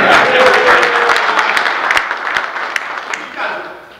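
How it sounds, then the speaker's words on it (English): A lively crowd at a speaking event applauds steadily for several seconds, dense clapping at moderate volume with a voice rising over it near the end. "so you should give yourselves a round of applause"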